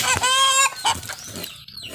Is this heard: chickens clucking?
yes